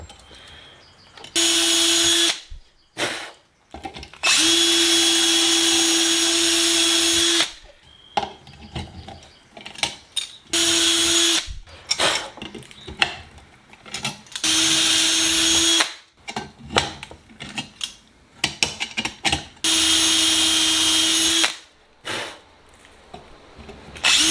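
A power drill whirs loudly in repeated bursts of several seconds each, close up, drilling a rear spar carry-through part held in a vise, with clunks and handling noises in between.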